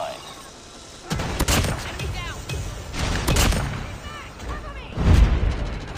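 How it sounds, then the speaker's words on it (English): A sentry gun in a video game fires several loud bursts and booming shots over a murky battlefield backdrop, with game radio voices speaking between the volleys. "Hostile sentry gun in your AO."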